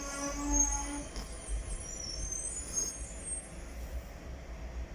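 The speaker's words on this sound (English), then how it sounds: "Sounds like the brakes are a bit stiff." Brakes of a Docklands Light Railway train at Greenwich station squeal with thin, high tones over a low rumble of the moving train, steady and fairly close for about five seconds.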